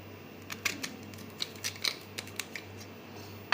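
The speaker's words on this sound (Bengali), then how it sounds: "ওই কলার এই সাইডগুলো কেটে আমি এখান থেকে বার করে দিচ্ছি দুদিকটাই" A knife slices the sides off a raw green banana: a run of crisp, sharp cutting clicks at uneven intervals, close and fairly quiet over a low background hum, with no voices.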